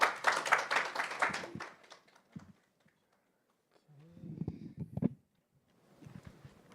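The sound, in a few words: audience applause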